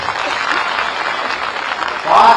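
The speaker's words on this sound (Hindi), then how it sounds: "ताली बजा दिए जोर से।" Crowd at a political gathering clapping loudly, a dense continuous roar of applause that swells near the end.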